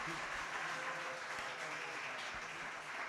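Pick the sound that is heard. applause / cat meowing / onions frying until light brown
applause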